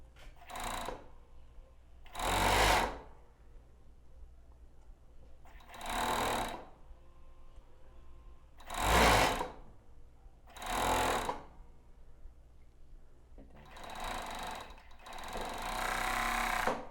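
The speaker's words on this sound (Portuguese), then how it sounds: "Então já organizo aqui e vou costurar até o final." A sewing machine stitches a lace-trimmed boxer-style panty in six or seven short, loud bursts a few seconds apart, with quiet handling between them, and the last run is longer.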